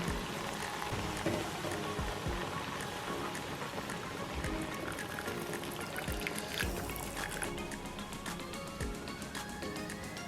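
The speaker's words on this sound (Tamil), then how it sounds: "இப்போ வந்து கொஞ்சம் பால் ஊற்றிட்டு நல்லா ஃபுல்லாக பாயில் பண்ணிப்போம்." Milk poured into a pot of pasta boiling in water, giving a steady, dense bubbling and trickling hiss that runs continuously throughout at an even, moderately close level with no talking.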